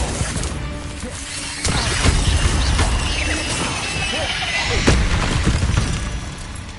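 Incendio fire spells cast in Hogwarts Legacy during a fight with a huge spider, sudden whooshing bursts and crashing impacts amid a loud, busy battle mix of booms and clatter.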